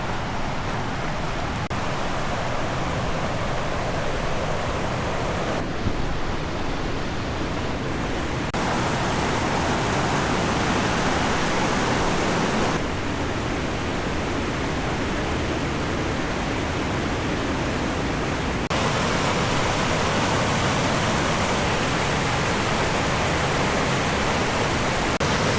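Lake Creek in the Weminuche Wilderness of Colorado rushes in a loud, constant roar of whitewater that holds steady throughout, with no voices.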